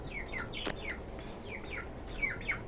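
Tiger breed rooster and hens in cages on a rooftop farm give faint, scattered clucks and short calls over low background noise.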